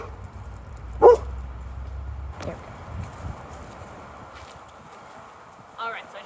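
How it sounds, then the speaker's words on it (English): A dog gives a short alert bark as a new client arrives at a training session, one loud burst near the start followed by quieter sounds under background noise. "she started alert barking at a new client coming in"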